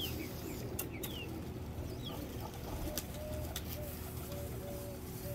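Pigeons coo softly in repeated low calls, with chirping birds and an occasional wing flap in an open outdoor space.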